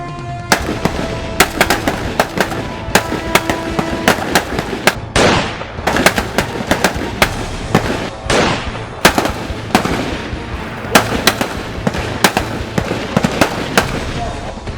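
Dense gunfire crackles across a military field training range for reserve officer cadets, a continuous barrage of loud overlapping shots and bursts at close to middle distance with few gaps.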